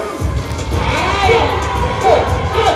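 Loud crowd cheering and shouting at an all-styles dance battle for dancer Ruth Prim, a dense roar of voices rising in waves with high yells.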